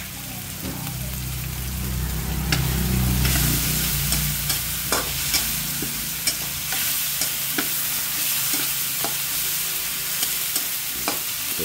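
Aromatics and black pepper sizzle steadily in a hot pan for squid adobo while a spoon stirs through them, with frequent sharp scraping clicks over a dense, close frying hiss.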